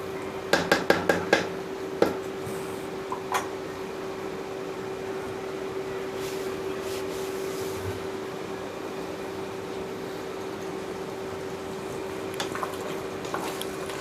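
Meat for Vellore-style biryani being stirred in a cooking pot. A quick burst of metal spoon clanks against the pot comes first, followed by a low, steady cooking noise under a constant hum and a few faint clinks.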